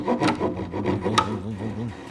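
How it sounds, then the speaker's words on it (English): Temple Tools handsaw cutting a pocket into a wooden workpiece, a steady rasping push-pull stroke rhythm, close and loud, with no voice over it. "I'm going to relieve it with my handsaw?"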